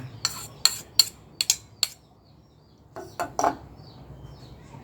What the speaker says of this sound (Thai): คนนะคะคนเบาๆค่ะเดี๋ยวไข่ดาวมันจะแตก